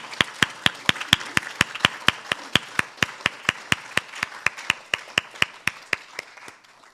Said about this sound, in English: we'll just do a round of applause.